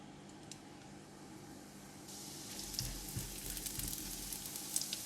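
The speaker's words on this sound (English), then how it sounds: "Add in half tablespoon of garlic in oil" Minced garlic sizzling in hot oil in a pan, the quiet background giving way to a steady, bright frying hiss that grows louder and fuller halfway through and keeps crackling to the end.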